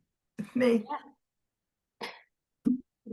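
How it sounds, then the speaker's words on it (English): Several throaty coughs in short clusters, close and fairly loud, with quiet gaps between them. "I'm empathetically coughing with you for no reason"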